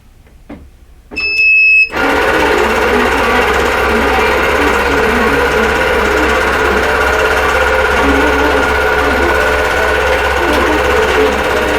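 A sewing machine stitches a long row across a quilt, starting after a few brief clicks and beeps and then running loud and continuous, without pause.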